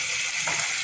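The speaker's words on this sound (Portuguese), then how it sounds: "Eu tô fritando a batata." Potatoes frying in hot oil give a dense, steady hiss and crackle, close and fairly loud, over a brief moment.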